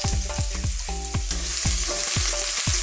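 Chili, onion and carrots sizzle loudly in hot oil for Filipino sizzling gambas, with rhythmic stirring scrapes and clanks of a utensil against the pan over a steady frying hiss.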